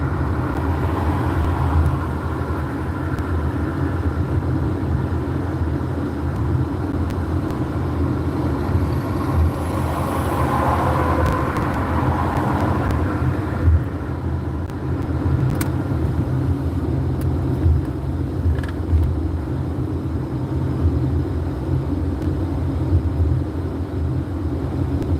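A camper car on the road to Falling Waters, Pennsylvania, rumbles along in a steady low drone of engine and road noise, with no talk throughout.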